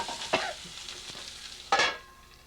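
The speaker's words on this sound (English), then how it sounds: "Put some of that oil on the pork. Get these back in the pan here." Pork sizzles in oil in a pan, a quiet steady frying hiss broken by two sharper spatters as the pieces are stirred and moved.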